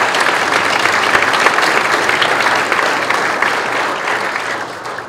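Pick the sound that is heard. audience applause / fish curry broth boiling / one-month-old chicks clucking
audience applause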